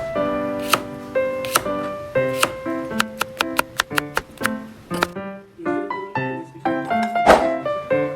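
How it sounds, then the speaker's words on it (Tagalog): A knife chopping cucumbers on a board: a series of sharp thunks, first spaced out, then a quick even run of cuts, close and clear with musical background and no talk. "Sumunod ay gayatin naman natin ang ating mga pipino."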